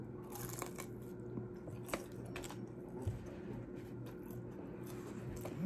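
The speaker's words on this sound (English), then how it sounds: "here's the egg roll with some hoisin sauce on it. We're going to bite into it." Someone biting into a warm egg roll topped with hoisin sauce, then chewing close to the mic: quiet crunches and soft wet squishing in a steady rhythm, with a few sharper crackles.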